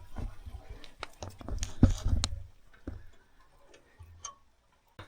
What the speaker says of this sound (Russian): Чуть-чуть капает с краника.